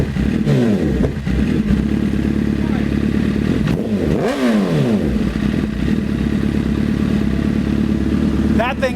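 A 2008 Honda CBR1000RR street fighter build idles loud and close, its engine note wavering with a couple of brief rev swells and clattery mechanical noise throughout.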